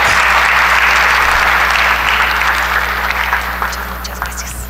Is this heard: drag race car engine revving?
no